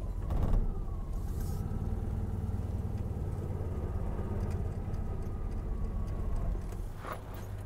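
A Citroën 2CV engine idles just after starting, a low, steady puttering drone close by with a slight rev near the start, and wind noise is heard over it.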